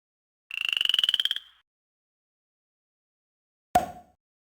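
A cartoon frog croak from a Nintendo DS picture book game: one pulsed, buzzy ribbit lasting about a second, then after a pause a single short knock-like sound. No other sounds in between.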